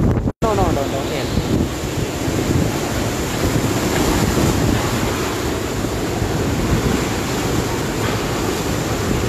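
Super Typhoon Goni (Rolly) wind roaring and buffeting against the microphone in Naga City, Philippines, with a continuous rushing wash of heavy rain, loud and unbroken throughout.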